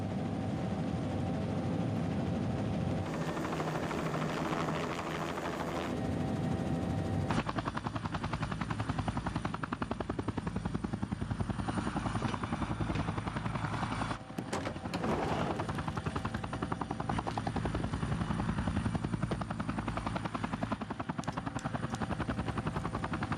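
A helicopter comes down to land, its rotor producing a loud, steady, close chopping roar that fills the whole stretch without pause, with a shift in engine tone partway through.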